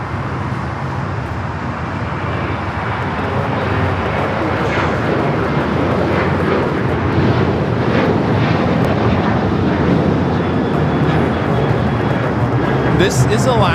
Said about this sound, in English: This is Alaska Airlines 1374 taking off to Loretto on the 737-900ER.